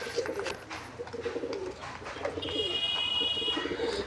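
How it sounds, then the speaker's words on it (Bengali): Domestic pigeons cooing in a loft where a male and female pair are kept, soft low coos repeating close by with a few faint chirps and background rustle. "নর পায়রাটা দেখো"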